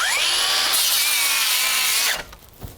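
A power saw bites into timber for a raised garden bed, its motor whining loud and steady for about two seconds before cutting off abruptly, followed by a brief clunk.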